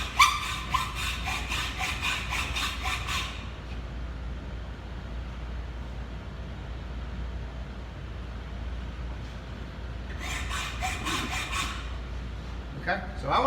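A hacksaw cuts metal in a workshop, close and fairly loud, with quick rasping strokes for about three seconds, a long quieter stretch, then another burst of strokes near the end.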